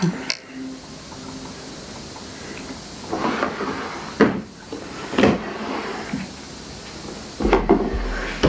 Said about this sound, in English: I also do the same thing when I place them in the drawers.